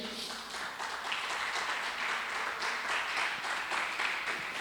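A church congregation applauds during a service with a continuous, even wash of many hands clapping at moderate volume, heard without talk.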